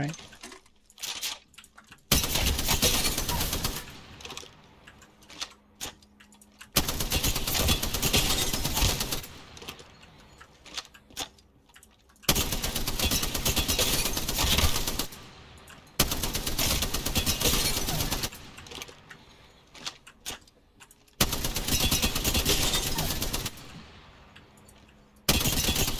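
Bursts of video game gunfire come in long, loud blocks of sustained rapid shooting, each lasting a few seconds, separated by quieter gaps.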